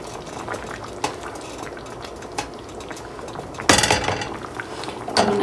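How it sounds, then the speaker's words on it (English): Mushroom and onion gravy simmers in a pan with a steady low bubbling, broken by occasional clinks of a utensil and a louder scraping stir partway through. "you want it to simmer for about 20 to 30 minutes"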